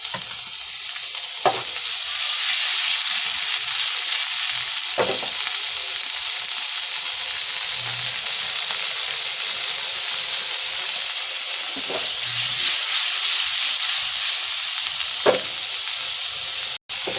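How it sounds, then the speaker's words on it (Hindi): Paneer frying in hot oil gives a loud, continuous sizzling hiss, with a few scraping stirs and clinks of a spatula against the pan spaced through the sizzle. "ये देखिए फ्राई हो गया, इसको निकाल लेते हैं प्लेट में।"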